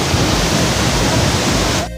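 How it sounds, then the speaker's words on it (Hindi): Steady broadband roar of water pouring down at Paklongkam waterfall, loud and continuous throughout, with a brief dip at the very end. "यही है झरना वाटरफॉल्स, यही है."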